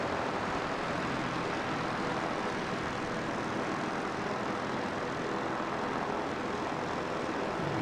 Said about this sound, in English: See if we can pick out that Flying Doctor's aircraft.